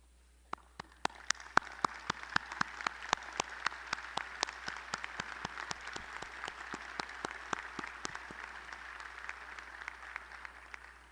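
Parents stand at a Lamar University College of Business commencement in December 2017 while the audience gives them a steady, sustained round of applause, with sharp individual claps standing out over a dense wash of hand clapping for about eleven seconds.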